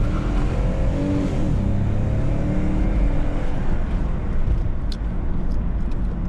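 A Lexus IS250 fitted with a cold air intake accelerates flat out with traction control off, its engine note droning loud and steady throughout with a rising harmonic sweep early on.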